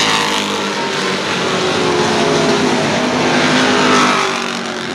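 Sportsman race cars roaring around New Smyrna Speedway, a loud, continuous engine drone from several cars passing close by with a steady pitch and a slight swell as they go past.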